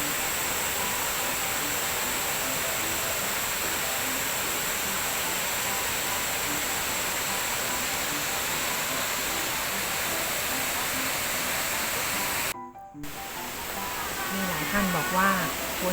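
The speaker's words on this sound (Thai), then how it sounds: "น้ำตกอาจจะไม่ค่อยแรงมากนะคะ แต่ความสวยงามก็ยัง มีอยู่นะคะ" Thi Lo Su waterfall, running at a modest early dry-season flow, sends a constant broadband rush of falling water that briefly drops out near the end before resuming.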